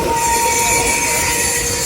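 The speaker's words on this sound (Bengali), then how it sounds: "নতুন ট্রেন দেখেছিস" A passing train's wheels squeal against the rails in a loud, continuous high-pitched screech that holds steady for the whole stretch, close by and with no voices.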